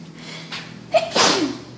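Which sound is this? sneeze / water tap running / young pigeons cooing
sneeze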